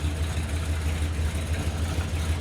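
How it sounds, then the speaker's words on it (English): A 1967 Chevrolet El Camino with a 327 small-block V8 and dual exhaust idles steadily, a deep continuous rumble close by with an even, loping rhythm and no talk. "The engine seems to run good. It's got a nice sounding cam and dual exhaust."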